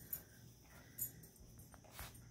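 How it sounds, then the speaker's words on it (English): A female dog barking outdoors, with about three short, faint barks spaced roughly a second apart at a distance. No one speaks. "She's going to get off a couple more barks"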